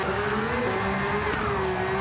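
A RUF RGT 4.2 drifting in Gran Turismo 7 gives off a steady, close engine drone whose pitch wavers slightly as the car slides, with a faint hiss of tyres underneath.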